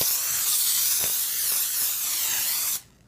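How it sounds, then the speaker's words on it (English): Pam baking spray hisses in one steady, close, loud burst for almost three seconds while a cake pan is greased, then cuts off sharply into quiet. "we're gonna grease our pan so it doesn't stick"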